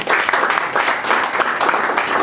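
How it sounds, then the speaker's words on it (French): Audience applause at a training workshop, a dense steady clatter of many hands clapping close by for the whole stretch, with no voices over it. "on peut applaudir"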